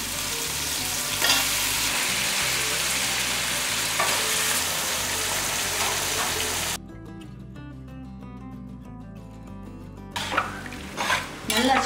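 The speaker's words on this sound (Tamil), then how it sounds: "நல்லா சிக்கன் நல்லா வதங்கணும், நல்லா உருண்டு வரணும்" Chicken and tomatoes sautéing in a pan for a Tamil-style chicken curry, a steady loud sizzle with stirring scrapes and utensil clinks against the pot, briefly dropping quieter midway before the stirring clatter picks up again.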